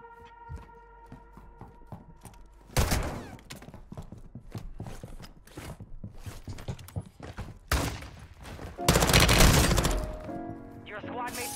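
Rapid bursts of gunfire from a Call of Duty Warzone 2 match, sharp cracks and heavier volleys coming in clusters, loudest near the middle and end, layered over other game noise.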